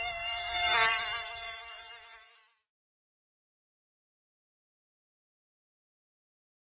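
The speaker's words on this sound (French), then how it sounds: "Vous seriez piqué par des nuées de moustiques." Swarms of mosquitoes in the marshes make a dense, close, high-pitched buzz that swells and then fades away over about two seconds, followed by silence.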